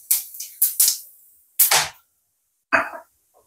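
Bay leaf, whole garam masala and cumin seeds hitting hot oil in a vegetarian Bengali kitchen, heard as several short sharp crackles and pops in separate bursts with quiet gaps between them.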